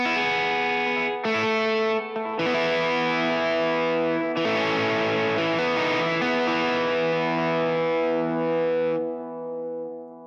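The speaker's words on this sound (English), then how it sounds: "I've added overdrive, compression, and delay to it" A distorted electric guitar with overdrive, compression and delay plays sustained chords and notes with a compressed, smooth tone and trailing echoes, loud and alone.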